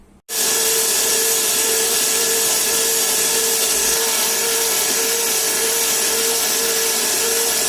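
A blender blends watermelon juice with ice cubes at full power, switching on sharply and holding a constant loud, buzzing whine with a steady hum underneath.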